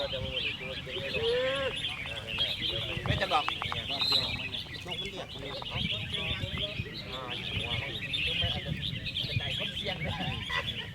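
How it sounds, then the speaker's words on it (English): Many songbirds at a bird song competition in Thailand chirp and whistle at once in a busy, continuous chorus, with people talking throughout and a steady high-pitched din behind them. "It's a bird song competition."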